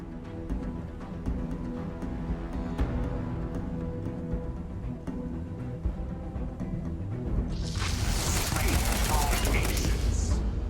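Gunfire in the space shooter game Starfield, a sustained rattle of shots through a steady game soundscape, swelling into a bright burst of bangs near the end; a voice talks over it.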